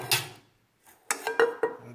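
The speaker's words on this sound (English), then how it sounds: "These are just little pressed aluminum pans." Small pressed, anodized aluminum camping pans are handled, giving a light clink, then a short run of three or four sharp metallic knocks and rattles, close and fairly quiet.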